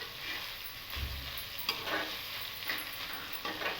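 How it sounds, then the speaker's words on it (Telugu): Ivy gourds fry in a pan while being stirred, giving a soft, constant sizzle broken by a few quiet scraping strokes, faint and close with no voices. "మంచిగా మొత్తం వేగిన వరకు మంచిగా ఇలా కలుపుతూ ఉండాలి."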